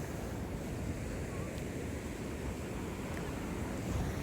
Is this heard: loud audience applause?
no